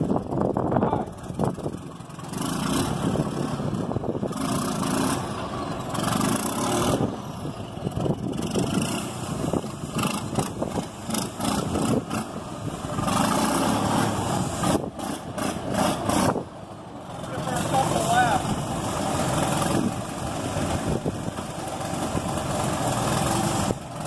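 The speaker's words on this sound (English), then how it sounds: "Tell them to wheel it on the parking lot and get that engine good and hot." A John Deere skidder's diesel engine, revived after two years abandoned, runs loud and rough, surging and dropping as it revs, with brief dips between bursts and no talk over it.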